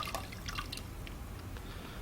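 Water from a pottery wheel's splash pan pours and drips into a bucket, a soft, steady trickle with small splashy drips throughout, faint and close, with no talking.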